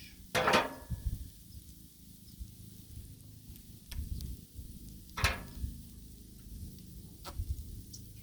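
Thanksgiving leftovers sizzle quietly on a Blackstone griddle, a low steady frying hiss broken by a few sharp scraping and tapping strokes of a spatula on the metal surface, with no talking.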